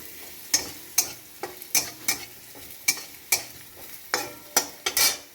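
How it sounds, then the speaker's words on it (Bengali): Garlic frying in a pan while greens are being readied, a soft steady sizzle broken by about a dozen sharp scraping stirs at an uneven, roughly half-second rhythm, close and moderately loud with no talking. "ভাজা ভাজা হয়ে গিয়েছে দেখুন কি সুন্দর ভাজা ভাজা হয়ে গেছে রসুনটা"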